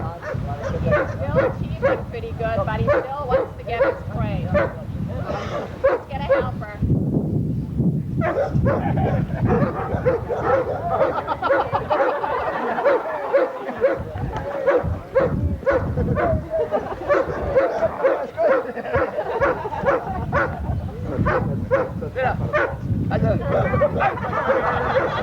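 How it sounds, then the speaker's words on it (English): A dog barks repeatedly and excitedly during bite training, rapid loud barks close by with yips and whines between them, while someone talks over it almost constantly. "Jetzt haben wir hier einen Hund, der ist relativ weit."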